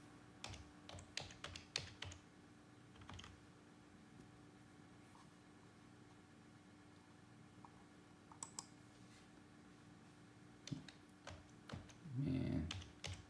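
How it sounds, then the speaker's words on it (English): Someone typing on a computer keyboard nearby, with bursts of quick key clicks separated by quieter pauses over a low background hum and a brief louder rustle near the end. "I'm gonna type in my information."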